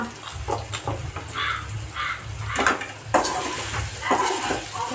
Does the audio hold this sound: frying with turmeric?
yes